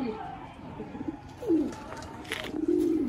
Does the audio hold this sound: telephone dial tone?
no